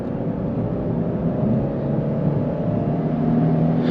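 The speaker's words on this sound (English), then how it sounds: "Let's go ahead and give it some gas here." A 2020 Lexus IS 300 AWD with a 3.5L V6 pulls hard under acceleration, its steady engine drone and road rumble filling the cabin and building slightly toward the end.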